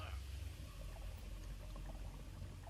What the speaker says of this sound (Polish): Teraz kamień poleci razem z wodospadem.